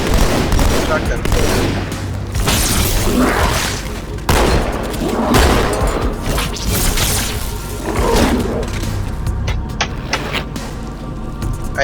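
Repeated shotgun blasts and gunfire from Halo 2, loud bursts recurring throughout a dense game battle with constant background noise.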